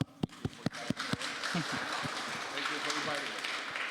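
Applause for the panelists at the close of a talk on political trust opens with a few distinct claps that quickly blend into a dense, steady round of clapping, with some voices mixed in.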